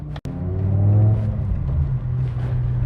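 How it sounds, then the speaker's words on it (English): Deep exhaust rumble from a 2007 BMW M6 on the move, loud and close, holding a steady low drone that swells slightly early on, with one brief cut near the start. "Listen, listen to that exhaust."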